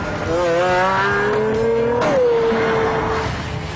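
A Pagani Zonda F, the 650-horsepower version, accelerates hard with a loud, close engine note that climbs steadily, drops sharply at a gearshift, then climbs again through the next gear.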